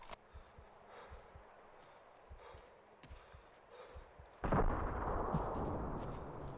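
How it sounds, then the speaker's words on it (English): An explosion in the combat video game Arma 2 bursts loudly after a stretch of faint distant gunfire thumps, leaving a long rushing roar that slowly fades. "I'm sure you witnessed that nice little explosion there"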